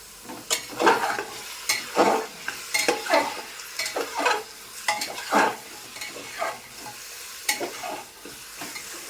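Mutton fries in a pan and is stirred with a utensil, giving a soft background sizzle and a series of irregular, close scraping strokes, with no talking.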